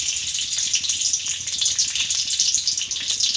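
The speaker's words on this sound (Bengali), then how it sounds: "তো আমি ফোড়নে দিয়ে দিলাম লবঙ্গ আর এলাচ" Cloves and cardamom tempering in hot oil for wedding-style fried rice, giving a steady, close, bright sizzle and spatter that runs without pause and without talk.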